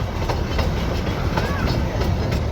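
Matheran toy train running, a steady close rumble and rattle of wheels on the narrow-gauge track with faint rhythmic clacks.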